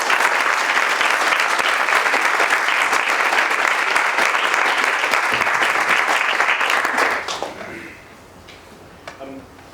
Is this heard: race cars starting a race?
no